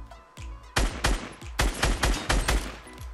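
Gunfire in Fortnite Battle Royale: a burst of about eight loud, sharp shots fired in quick succession, with a fainter shot just before, no voices over them.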